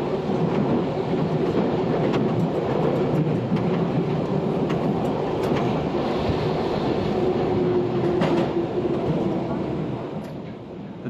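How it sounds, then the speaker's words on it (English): A London Underground Bakerloo line train runs between Queens Park and Baker Street, its loud, steady rumble and rail roar continuous throughout, with a narrating voice over it. "You should begin to slow the train down for a 25 mile an hour speed restriction"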